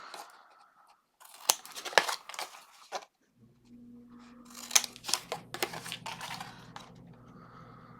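Scissors snip paper to miter the corners of a mini album, giving crisp close cutting clicks in short bursts between quiet pauses, with a faint hum behind them.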